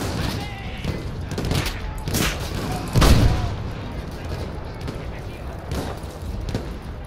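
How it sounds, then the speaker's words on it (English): Suppressing fire in the video game Battlefield 1 sounds as a mix of scattered distant shots and fusillade pops, with one heavier thump near the middle, while a voice speaks over the battle. "Continue suppressing fire."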